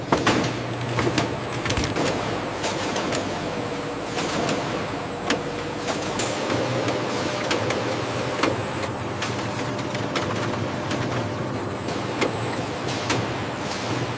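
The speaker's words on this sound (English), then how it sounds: "Watermelon pulp enters the dicing machine, ready for precise transformation." Factory processing line with a dicing machine cutting de-seeded watermelon pulp, giving a steady loud industrial clatter and hum with repeated sharp mechanical clicks and knocks throughout, no voices.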